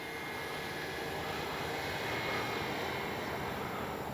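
A CNHL Super Tucano RC model airplane flies overhead, its electric propeller drone a steady, moderately distant whine that swells slightly midway as it passes.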